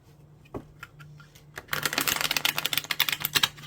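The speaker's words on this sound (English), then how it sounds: "And let's give it a shuffle." A tarot card deck is shuffled close up: a few soft riffles and taps at first, then a dense burst of rapid crisp card flutters.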